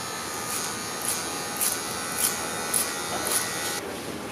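Wahl electric hair clippers buzz steadily while cutting clipper over comb with a 1.5 guard, with short bright bursts recurring about every half second as the blade passes the comb, close and fairly loud.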